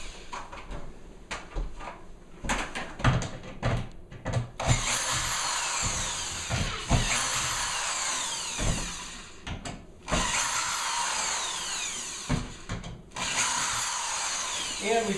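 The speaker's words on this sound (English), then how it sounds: "we just take our screwdriver and we start here and we just pull these little screws off" Power screwdriver backing small screws out of a kitchen cabinet, with short bursts of whirring interrupted by clicks and knocks of wood and hardware, close up with no talking.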